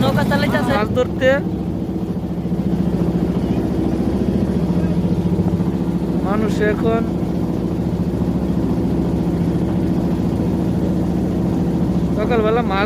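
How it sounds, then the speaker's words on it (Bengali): A fishing boat's engine drones steadily on a river, a close continuous low hum running throughout, with people talking briefly over it and a few sharp bird-like chirps cutting in. "সে নৌকা চালাইতেছে মাছ ধরতে।"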